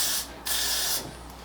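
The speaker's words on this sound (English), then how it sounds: "You just wanna spray it everywhere." Hair spray hisses from a can onto short 4c hair in two bursts, the first short and the second longer and steady, close and fairly loud with no talking.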